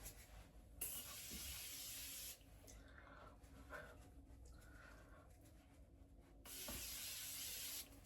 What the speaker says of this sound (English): So I'm gonna set my face with this Morphe setting spray.